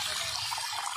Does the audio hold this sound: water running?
yes